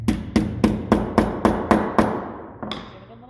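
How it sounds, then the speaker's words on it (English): A hammer taps a loose workpiece eight times in a quick even series of sharp metallic knocks, close and loud, then one lighter tap after a short pause. "Give it a little bit of a tap before I put it in the vise."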